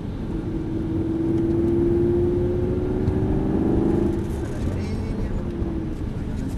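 Aston Martin V8 Vantage accelerating on a track, its engine droning and rising in pitch steadily from inside the car while an instructor speaks over it.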